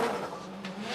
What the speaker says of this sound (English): The anti-lag bangs from the back of the car as he comes off the line